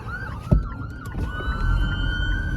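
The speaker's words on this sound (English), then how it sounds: "it's crazy that an ambulance is coming" An ambulance siren wails through Los Angeles streets, a rising and falling tone over traffic rumble, with a sharp thump near the start.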